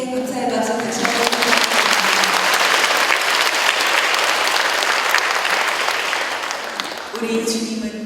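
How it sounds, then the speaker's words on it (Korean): A church congregation at a night prayer and healing service bursts into loud, dense applause that swells quickly and holds steady for several seconds before fading, with speech briefly heard at either end. "박수 다시 한번"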